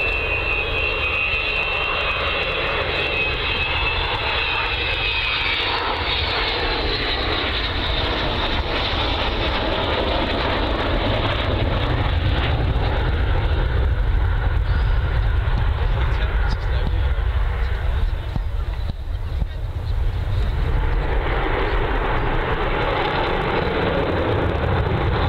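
Avro Vulcan B2 bomber XH558 flying at an air show, a steady loud jet roar that swells and rumbles throughout, with a voice faintly present beneath the engine noise.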